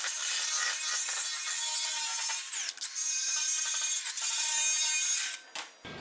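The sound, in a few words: power tool polishing a metal car fender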